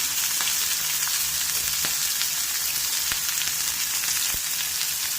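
Chopped onion and green chilies sizzle steadily in a hot pan with oil, a dense continuous frying hiss with occasional light ticks and crackles, close and alone without talk.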